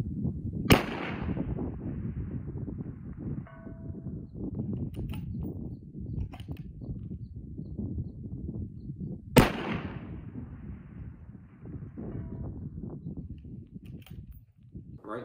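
Two loud, sharp rifle shots from a Tikka T3X CTR fired at long range, spaced several seconds apart, each with a brief ringing decay, amid low wind and outdoor rumble.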